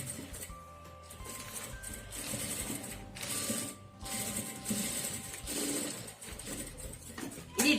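A sewing machine stitches a blouse shoulder seam in short, close, whirring bursts of rapid clatter separated by brief pauses.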